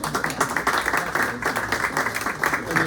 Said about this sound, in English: While we set up, we can give them another round of applause.